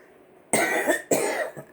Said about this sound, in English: every time I get up here, it's what happens. I start coughing